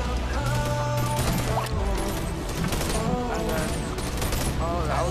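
Gunfire in the VR game BONELAB, dense rapid bursts of shots and mechanical clatter layered over a busy game soundscape with tonal effects, loud and continuous throughout.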